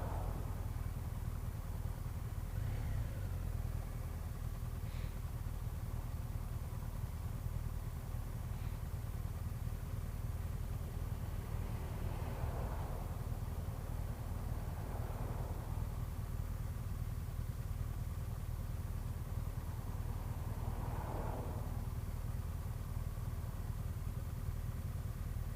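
A motorcycle engine idles steadily in first gear at red traffic lights during an advanced riding lesson, a constant low rumble with faint passing traffic, and no talking.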